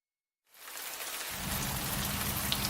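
Heavy rain falls in a steady, dense hiss, starting abruptly and then filling in with a deeper roar, without any voices.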